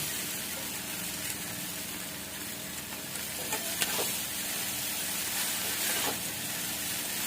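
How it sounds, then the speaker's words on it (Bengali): Chow mein noodles fry in a pan with onion and chilli, giving a steady, dense sizzling hiss close by with faint stirring clicks throughout. "ভালো করে ভাজা হয়ে গেছে, এখন আমি চাউমিনটা দিয়ে দিচ্ছি"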